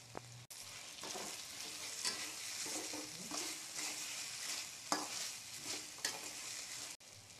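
Restaurant-style egg noodles are tossed in a pan with green chilli sauce and salt. A continuous faint sizzle runs under repeated scraping and stirring strokes, some sharper clatters stand out, and the whole is low in level with no voices.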